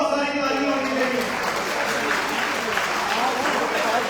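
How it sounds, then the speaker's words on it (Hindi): Applause from the audience at the SML Android Mobile CPU Competition in Lahore: a dense, steady wash of clapping that holds evenly for about four seconds, with a voice heard over the opening moments. "बहुत सारी तालियां होनी चाहिए।"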